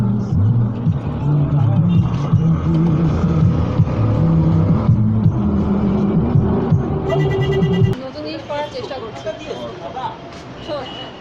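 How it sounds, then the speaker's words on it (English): Busy city street traffic on Pathuriaghata Street in Kolkata, a loud steady rumble of engines and hum up close, then thinning to lighter traffic noise with faint voices. "this is the traffic here, and I don't think anybody here cares about rules that much."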